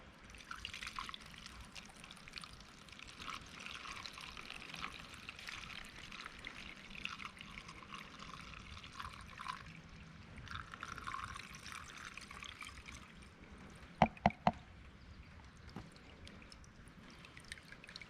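Diesel fuel with a little water in it pours through a filter funnel in a steady, soft trickle, faint and continuous, with a couple of small knocks near the end.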